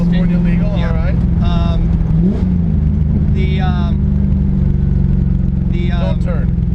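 A modified early-90s C4 Corvette with stock headers and a mix-and-match exhaust drones steadily at cruising speed, loud and close, with a brief rev shift while people talk over it inside the car.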